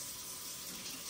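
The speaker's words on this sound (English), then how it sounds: "And you fill it up to here with cold water" Cold water runs from a tap into a FIZZpod drink bottle, a steady close hiss of flowing water filling the container without pause.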